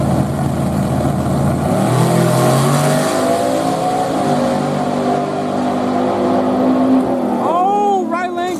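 Drag racing cars, a Mustang among them, accelerating hard at a grudge race, heard as a loud, continuous engine roar with rising tone, while people talk excitedly over it.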